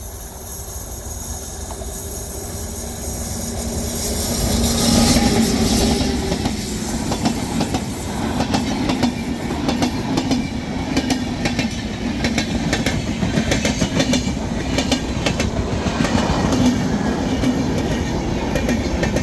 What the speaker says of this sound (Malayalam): അതാ ഒരു ട്രെയിൻ വന്നുകൊണ്ടിരിക്കുകയാണ്.